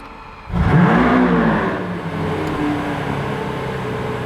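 A blue Lamborghini Aventador S fires up with a sudden loud whoop from the starter, flaring briefly before settling into a heavy, droning idle, close by.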